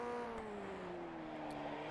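Formula 1600 open-wheel race car engine in the iRacing simulator, revving high in second gear, a steady whining tone held close and loud for the whole stretch.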